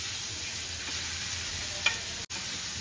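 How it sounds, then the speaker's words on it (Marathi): A garlic, chili, ginger and coriander paste sautéing in a pan for a prawn masala, a faint steady sizzle with a brief stir scrape, quiet and close. "लसूण, मिरची, अद्रक, कोथिंबीरची पेस्ट आहे थोडीशी, ती पण टाकूया. आणि हलकीशी थोडीशी परतून घेऊया."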